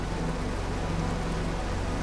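Steady rain falls in the video game The Caribou Trail, an even, continuous hiss of rainfall with a low rumbling undertone and no other distinct sounds.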